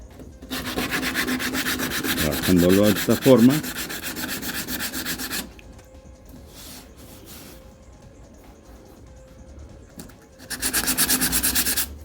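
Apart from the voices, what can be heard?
sanding car body panel with sandpaper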